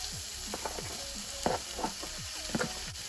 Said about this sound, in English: I'm gonna go ahead and add in the potatoes.